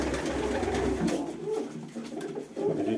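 Young pigeons coo softly inside a coop, low throaty calls repeating close by against a faint background hum.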